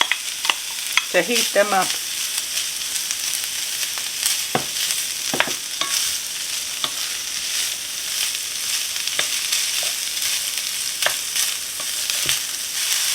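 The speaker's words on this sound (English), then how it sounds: "And now I just want to put them in the frying pan" Pre-boiled chicken pieces frying in a frying pan, with a steady sizzle punctuated by scraping stirs and utensil clinks, close and moderately loud; a brief spoken phrase comes early.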